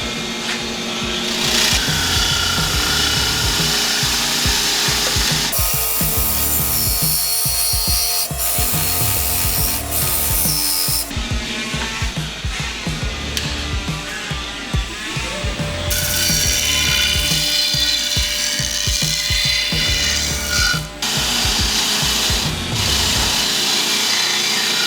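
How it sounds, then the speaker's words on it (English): A power wire wheel scrubs thread burrs off the tang of a 23-inch mosaic Damascus Bowie knife, giving a continuous loud grinding, rasping whir with shifting pitch as the steel is pressed and moved against it, with no speech. "I like to run over it with a wire wheel"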